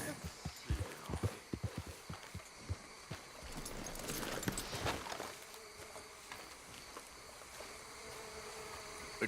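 Horse hooves clip-clop in a quick, uneven rhythm while riding in Red Dead Redemption 2, fairly faint, before fading into a softer steady rustle of outdoor ambience.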